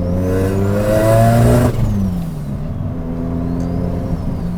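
The engine of a 720 bhp three-rotor swapped Mazda RX7 revs hard and loud, then cuts off sharply into a lower, rougher idle with crackles, pops and a faint whistling whir trailing through the quieter stretch.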